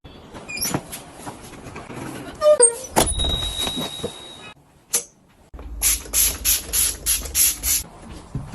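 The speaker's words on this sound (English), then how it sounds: "I spray it with a stainless steel cleaner" Stainless steel cleaner is sprayed in a quick series of short, sharp hissing bursts from a trigger bottle, close and fairly loud, following earlier clicks and knocks.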